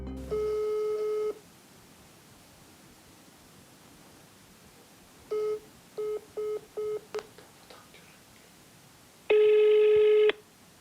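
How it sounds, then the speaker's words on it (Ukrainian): A telephone call that goes unanswered: bursts of tone and a short run of dialing beeps, followed by a long, loud busy-signal tone, with quiet gaps between the sounds. "Номер абонента, якому ви телефонуєте, зайнятий або абонент відхилив ваш виклик."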